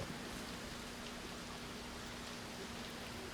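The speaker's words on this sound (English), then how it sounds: "It just done start raining on you" Rain begins falling outdoors, a soft steady hiss of drops spread evenly throughout, fairly faint with no voices.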